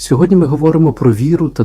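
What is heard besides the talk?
No distinct noise like a dog, phone or traffic.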